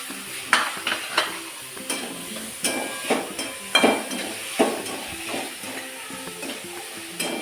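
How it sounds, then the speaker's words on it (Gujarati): Ginger, green chilies and garlic roasting in a pan over a low flame, stirred with irregular scraping and tapping strokes over a soft continuous sizzle, close up and without speech. "ધીમાં તાપે આદુ મરચાં અને લસણ શેકવાનું છે."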